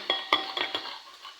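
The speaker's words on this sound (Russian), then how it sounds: "1 зубчик чеснока. И на мелкой терке терем." A garlic clove rubbed across a fine grater, giving a quick run of four or five scraping strokes with faint metallic clicks, close and fairly quiet, no voices.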